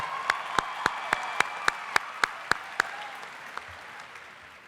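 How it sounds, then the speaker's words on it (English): Applause at a high school graduation, with a run of about a dozen evenly spaced, distinct sharp claps standing out over a fainter spread of crowd clapping that slowly fades. "give yourselves a round of applause"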